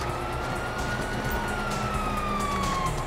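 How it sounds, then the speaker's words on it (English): Police sirens from the Grand Theft Auto V prologue wail steadily with a slowly falling pitch, continuous over a busy background of engine and action noise, with no talk. "You hear that? Sirens!"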